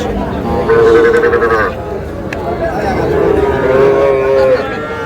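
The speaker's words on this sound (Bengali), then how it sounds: "ষাঁড় বাচ্চা।" A four-month-old native bull calf gives drawn-out moos, one early and a longer one later, fairly loud and close amid background voices at a cattle market.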